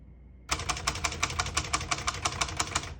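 Keys struck on a 1960 Hermes Rocket portable typewriter, a close, crisp run of about a dozen evenly spaced clacks that starts abruptly after a brief quiet moment.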